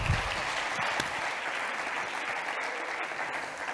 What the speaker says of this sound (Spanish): Fuerte aplauso, ¿no?